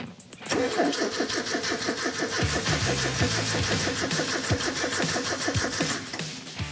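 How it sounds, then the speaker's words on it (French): A vintage Morgan 4/4 engine cranks and fires with help from an old-style booster hooked to the battery, a rapid rhythmic starter churn settling into a loud, uneven running engine, close up with no talk. "C'est donc ce booster à l'ancienne que Gwen relie à la batterie pour assurer le démarrage"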